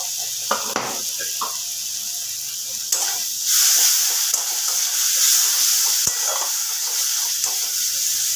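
Spice paste with garam masala fries in a pan for a wedding-style cabbage dish with fish head, giving a steady, loud sizzle and hiss with occasional scrapes of stirring throughout.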